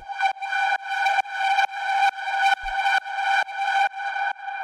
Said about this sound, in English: And then the last thing we have down here is this little drone sound.